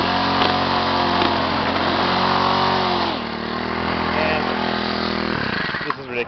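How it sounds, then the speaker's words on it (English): A gas string trimmer runs close by at full throttle in a yard, a loud buzzing two-stroke whine that dips and revs back up near the end. "I'm weed whacking right near you and you're just hanging out."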